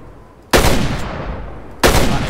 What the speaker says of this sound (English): That is a very natural shot.